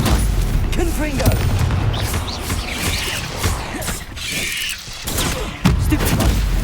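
Confringo blasting spells detonating in a Harry Potter video game, a busy run of booming blasts and crackling bursts layered over game effects and a voice casting spells.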